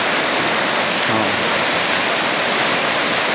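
Bangon Falls in Barangay San Jose, Samar, pours as a steady, loud, broadband roar of falling water, continuous and close with no break.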